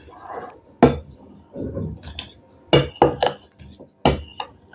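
A knife cuts food into small squares directly on a plate, giving sharp clinks and taps of metal on the plate in an irregular rhythm, close by with no talking.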